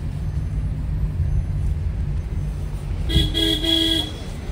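On a busy mountain road near Sonprayag in Uttarakhand, a steady traffic rumble runs under a loud vehicle horn that blares for about a second near the end.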